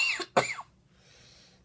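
Two sharp, close coughs in quick succession from one person, followed by a faint breathy exhale and a small click at the end.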